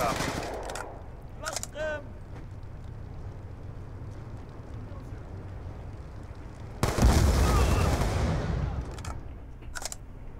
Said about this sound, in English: why are bullets flying through things?